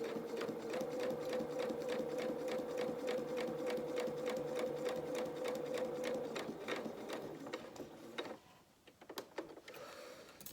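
A sewing machine runs steadily through a straight line of stitching across fabric, a fast even needle rhythm close by, then slows and stops near the end with a few handling clicks.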